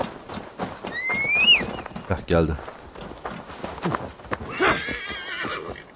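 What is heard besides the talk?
horse neighing and galloping in video game Assassin's Creed Valhalla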